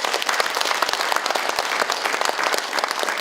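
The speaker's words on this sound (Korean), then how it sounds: "다시 한 번 더 큰 박수 보내주십시오." A forum audience at an emergency political debate in Korea claps together in dense, steady, loud applause that fills the whole stretch without talk.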